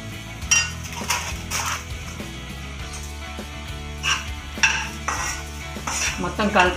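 Veg fried rice stirred in a metal pan, a series of clanking spatula strikes and scraping against the pan in an uneven rhythm, close and fairly loud, with a dog barking briefly in the background.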